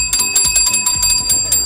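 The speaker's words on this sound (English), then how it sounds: "Why don't you guys give it a practice round? Ding the bells." Handheld bells ding rapidly and repeatedly during a game show practice round, bright metallic rings close and loud with no talking.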